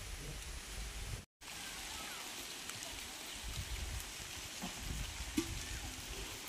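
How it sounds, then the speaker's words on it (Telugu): Steady rain falls on a tribal village in dense forest, a continuous broadband hiss with soft patter throughout, plus one brief dropout midway. "ఇక చూసారు కదా, వర్షం వస్తుందండి"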